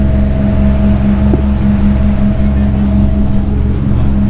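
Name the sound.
charter boat motor running loud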